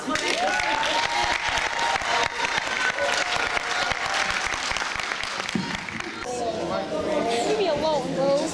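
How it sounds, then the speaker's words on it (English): A school summer learning showcase audience applauds loudly and continuously, dense clapping mixed with crowd chatter and scattered voices throughout, the murmur thinning slightly near the end. "Another applause for that."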